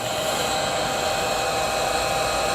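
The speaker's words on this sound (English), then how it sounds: "Big old fan on that, which is wonderful for charging speed, but it is a big charger." A power tool battery charger's cooling fan runs with a steady, loud whir and a faint high whine, unchanging throughout with no other sounds.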